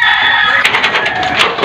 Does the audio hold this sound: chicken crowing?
yes